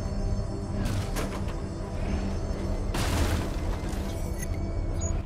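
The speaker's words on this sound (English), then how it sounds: "The explosion disabled the main cannon." A booming explosion in the video game Batman: Arkham Knight, heard as two bursts of blast noise over a dense rumbling game soundscape, with no talk.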